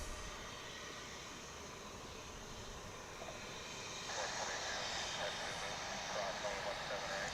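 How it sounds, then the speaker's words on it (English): A 20-year-old United Airbus A319 built in 2002 takes off from DFW airport bound for San Francisco, a faint, distant, steady jet roar that swells noticeably louder partway through. "Here's this United flight, which is off to San Francisco."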